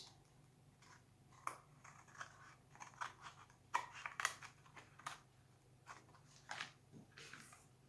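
Scissors snip paper for a collage board, giving quiet, scattered crisp cuts and rustles in an otherwise hushed room.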